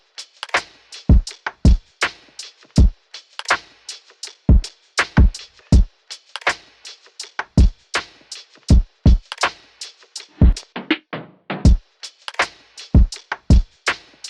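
Lo-fi boom-bap drum beat in an older New York style, with punchy kicks and crisp snares and hats repeating in a steady, loping groove, played alone.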